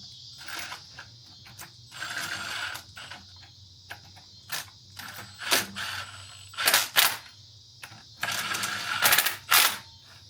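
A ratchet snugging bolts on a Chevy Dana 60 kingpin, heard as irregular bursts of rapid metallic clicking close by, separated by short quiet pauses.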